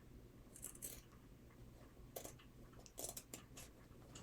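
Scissors snip through denim while trimming thrifted jeans into triangles, a few quiet clustered crisp cuts, close and faint, with pauses between and no talk.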